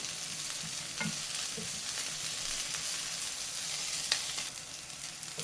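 Fenugreek leaves frying in ghee, a quiet continuous sizzle with occasional light stirring clicks and scrapes in the pan.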